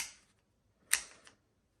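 A Moyu Weilong v9 speed cube turns with its layers cutting corners past 45 degrees, giving a couple of crisp plastic clicks and a brief rattling turn, close and fairly quiet.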